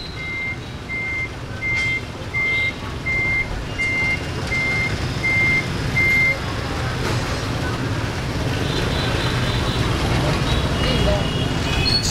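Reversing beeps from a vehicle making a three-point turn in Saigon traffic: a regular series of about nine evenly spaced beeps over loud, dense roadway noise and engines, which continue after the beeping stops.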